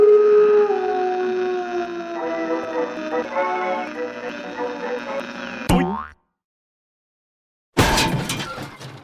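A cartoon-style dog howl in a Siren Head setting, a long wavering tonal cry with sliding pitch, loud and close, breaks off abruptly into a crash and a second of silence before a harsh noisy burst returns.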